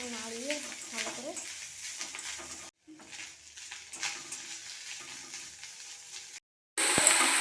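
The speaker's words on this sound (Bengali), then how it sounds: "এরপরে দিয়ে দেবো নারকেল কুড়ো। নারকেল কুড়ো দিয়ে একটু নাড়িয়ে ভালো করে।" Grated coconut is stirred as it fries in a pan, giving a soft, steady sizzle with light scraping strokes, close and fairly quiet, with a brief break partway through and a voice heard briefly at the start.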